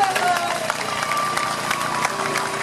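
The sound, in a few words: audience applause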